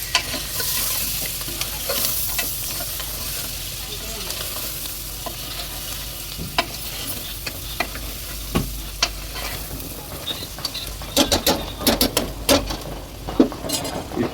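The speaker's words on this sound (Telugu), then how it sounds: "గుప్పడంతా పుదీనా వేసుకోవాలి. కొత్తిమీర వేయాలి ఇప్పుడే. వేసి బాగా కలబెట్టాలి." Goat paya fries in a pot with fresh mint and coriander while a steady sizzle runs throughout, broken by sharp clinks and scrapes of a stirring spoon against the metal, growing busier toward the end with no talking.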